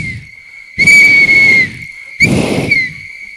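Two loud, shrill whistle blasts sound in the clip, each lasting about a second and separated by a short pause, blown by a crowd of faith-based delegates at a stakeholder meeting to welcome the Premier.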